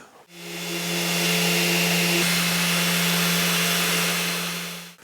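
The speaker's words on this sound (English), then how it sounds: "this little gadget is a Abranet hand sander" A steady, loud mechanical whir with a strong low hum runs continuously for about five seconds, an Abranet hand sander working a wooden table-top edge close by, with no talking.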